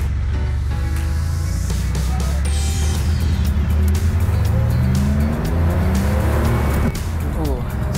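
A 1977 Porsche 911S engine revs and drops as the driver shifts through gears, with worn synchros in third gear, a whining drivetrain and road noise throughout.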